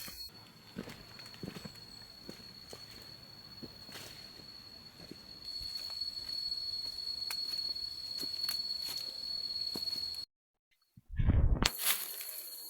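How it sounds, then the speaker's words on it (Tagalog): Steady cricket chirring fills a forest, with a high continuous trill and scattered rustling, then a sudden break near the end followed by a loud burst. "puro kuliglig yung naririnig natin dito sa kagubatan"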